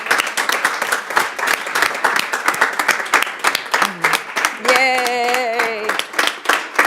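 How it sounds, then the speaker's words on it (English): Audience members clap at a public school board meeting, a loose burst of distinct, fairly close hand claps with a brief cheering voice rising over them partway through. "So I would like to give a round of applause to Director Goldstein."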